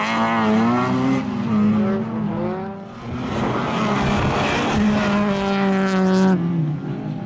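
Rally cars race on a stage in the Shackleton round of the RSA Summer Series, their engines revving loudly and close by, rising and falling through gear changes with brief tyre scrabble, with no voices.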